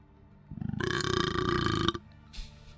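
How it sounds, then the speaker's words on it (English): One long, throaty burp rumbles for over a second, fairly close and clear, with no talk over it. "That was a quiet burp."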